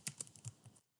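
Quick keystrokes on a computer keyboard type an item name in QuickBooks Desktop, about six light clicks in a fast, uneven run, close and faint, then silence.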